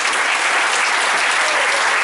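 Sustained clapping from the audience at an adult cosplay contest in Cusset, 2014, a thick, even burst of applause throughout the short stretch.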